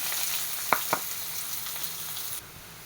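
Sliced onion sautés in hot oil with cinnamon, cloves and cardamom, giving a soft continuous sizzle broken by two sharp utensil clicks early on, before the hiss drops lower near the end.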